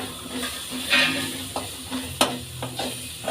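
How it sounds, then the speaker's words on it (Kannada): Singhara (water chestnut) fry with coriander leaves sizzles in a pan, a continuous hiss broken by several distinct stirring clicks and scrapes, close and moderately loud. "ಫ್ರೈ ಮಾಡ್ಕೊಳ್ಳೋಣ"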